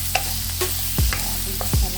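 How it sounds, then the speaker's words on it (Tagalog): Chicken stir-fried in a pan, with a steady frying sizzle and a few scraping stirs of a utensil against the pan at close range. "Tapos i-add ko na yung chicken ko na stir fry ko na rin."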